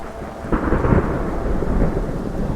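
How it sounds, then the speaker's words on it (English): A thunderstorm with heavy rain: a loud, steady wash of rainfall with deep thunder rumbling and swelling through it, close and full with no voices. "Why won't it stop raining?"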